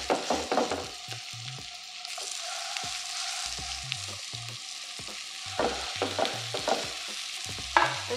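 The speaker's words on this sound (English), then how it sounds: "So I will add this patties in there." Beef patties sizzle steadily in a heavy skillet while a utensil scrapes and pushes them in short, repeated strokes, close up with no talk.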